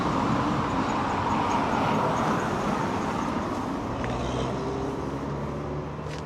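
Steady traffic noise from a busy main road in England, cars and larger vehicles passing in a continuous roar close by, with no talk over it.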